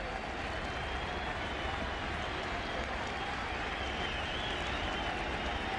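Crowd noise swells steadily through a baseball stadium during a 2000 NLCS playoff game between the Cardinals and Mets, a dense continuous roar with some clapping and no breaks.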